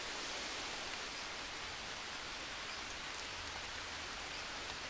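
Steady rain falls in the jungle survival game Green Hell, a dense, even hiss of drops on surfaces with no pauses or voices, soft and continuous throughout.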